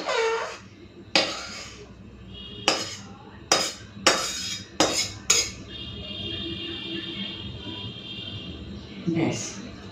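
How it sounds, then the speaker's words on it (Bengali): Freshly cooked white pulao rice emptied from a pot into a large bowl, with a series of sharp metallic clanks and scrapes of a spoon against cookware, separated by quieter pauses and someone speaking. "গামলাতে ঢেলে রাখছি, এটা ঠান্ডা হলে কিন্তু ঝরঝরে হয়ে যাবে"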